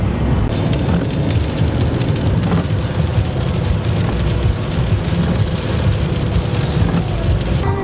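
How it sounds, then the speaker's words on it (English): Steady, dense rain pattering loudly and continuously on a surface, with no voices, a constant wash of drops throughout. "it's been raining for the past few hours"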